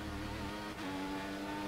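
Formula 1 race car engine running slightly overheated at Sochi, a loud, steady high-pitched whine that dips briefly midway before resuming, close and continuous.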